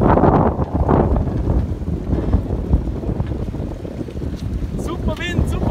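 Strong wind roars across a Swiss lake during a boat trip, a steady loud rush with microphone buffeting and the churn of the boat, while people talk over it.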